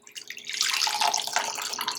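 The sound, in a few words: straining a weight-loss bedtime drink into a cup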